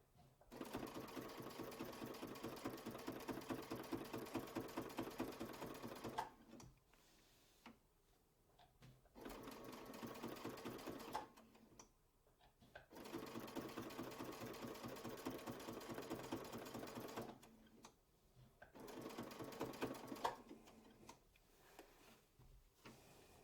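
A sewing machine stitches the last line of a quilt block, a steady fast mechanical whir running in several long bursts of a few seconds each with short quiet gaps between, close but soft.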